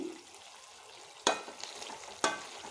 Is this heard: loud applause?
no